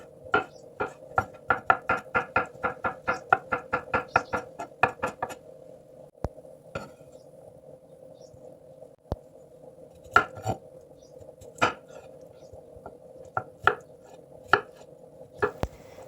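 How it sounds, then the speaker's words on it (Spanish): A knife finely chopping onion on a board comes first as a fast, even run of crisp taps. Scattered single knocks and cuts follow after a pause, close by and fairly quiet. "Picamos la cebolla muy finita."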